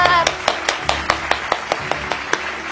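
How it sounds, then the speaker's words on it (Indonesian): A congregation at an online children's Sunday school service claps in a steady, evenly spaced rhythm, roughly a dozen sharp beats, with faint speech underneath. "kita mau kasih tepuk tangan dulu buat Tuhan kita yang dahsyat."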